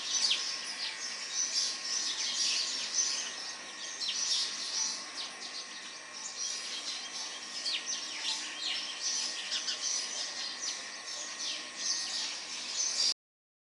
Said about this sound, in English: birds serenade us with their melodious songs